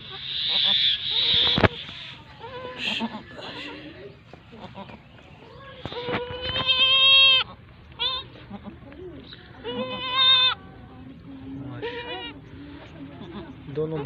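A first-time, two-tooth mother goat bleats several times near a pen with her two newborn kids, the cries rising and wavering over muffled farmyard noise while people speak.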